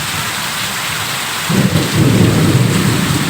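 Steady rain pours onto surfaces while low rumbling thunder rolls in partway through, loud and continuous with no voices.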